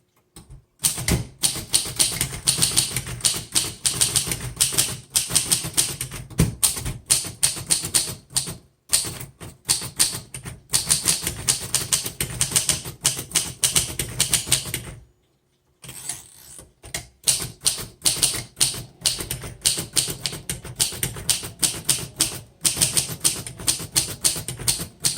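A 1937 Royal Model O typewriter is typed on steadily in rapid bursts of crisp, close key strikes, broken by a single pause of about a second.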